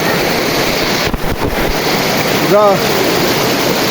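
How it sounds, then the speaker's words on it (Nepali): A small mountain stream rushes close by in a constant broad roar, with a brief voice breaking in near the end. "यो खोला चाहिँ आजभोलि सानो भएको छ"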